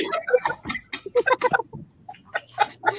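A chicken clucks close by in a series of short, uneven clucks and throaty calls, with brief pauses between bursts.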